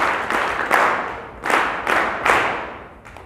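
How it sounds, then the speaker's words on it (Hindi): A crowd claps in welcome at a rally, with several short bursts of applause rising and fading in waves, fairly close and loud. "मैं उनसे अनुरोध करता हूँ कि जोरदार तालियों से उनका स्वागत करेंगे"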